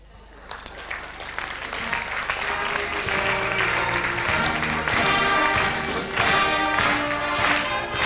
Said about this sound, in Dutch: geef ze daar nog hun verdiende applaus aan Herman Klausboom